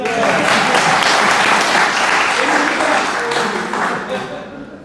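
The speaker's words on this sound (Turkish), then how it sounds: "Alkışlayabiliriz." Sustained applause fills a hall at an association's indoor gathering, many people clapping together loudly and evenly before it gradually thins out and fades toward the end.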